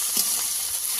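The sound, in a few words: ginger paste being fried and stirred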